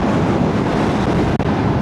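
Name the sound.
wind while riding motorcycle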